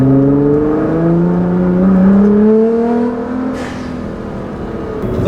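A 2015 Nissan GT-R with aftermarket exhaust, tune and GFB blow-off valves revs loudly, its engine note rising and falling in long sweeping pulls, with a brief hissing whoosh of a blow-off valve midway and no talking.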